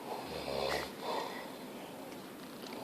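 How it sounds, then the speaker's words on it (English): A man snoring in a tent or camp in the wilderness, a single rough snort-like inhalation followed by a fainter second breath, close and moderately loud. "he is snoring really loud"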